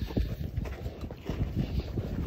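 Mule hooves clip-clopping on an outdoor trail during a first saddle ride, a quick uneven run of close, dull thuds with some wind noise across the microphone.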